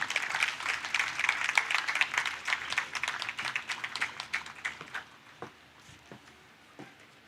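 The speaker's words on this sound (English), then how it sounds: "A big round of applause," Applause from an audience at the closing ceremony of a literature festival following a keynote introduction, thick and loud at first, then thinning over several seconds to a few scattered claps near the end.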